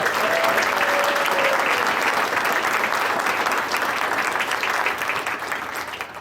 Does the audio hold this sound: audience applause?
yes